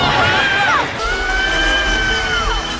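A character in an Indiana Jones film screams in long, high, sustained wails, with a rumbling background of action noise beneath.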